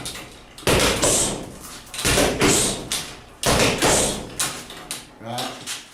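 Palm strikes in Tibetan palm drum-beating training land as a series of heavy, close thumps, several in quick pairs, mixed with someone talking between and over the blows.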